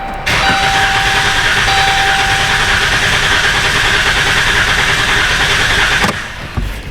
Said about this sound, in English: listen to the cadence of this engine. We're in clear flood mode.